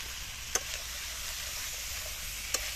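Chicken feet frying in spice masala give a soft, steady sizzle close by, broken by two sharp clicks of a stirring utensil against the pan.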